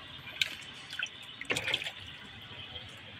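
Water is added to a plant growing setup in a gardening area: a few faint, scattered drips and small splashes, with a brief burst of trickling near the middle over a quiet background.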